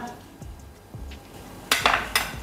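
A knife cuts homemade kalakand sweet in a metal tray: a few soft taps at first, then a burst of sharp metallic scrapes and clinks close by near the end.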